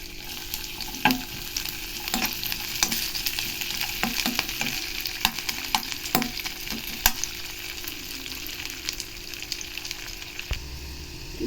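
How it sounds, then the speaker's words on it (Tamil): Raisins fry in a pan for bread halwa, a steady crackling sizzle running throughout with scattered sharper pops and occasional scraping stirs, close and moderately loud, no voices. "இப்போ திராட்சையும் போட்டு நம்ம இதை ஃப்ரை பண்ணிடலாம்"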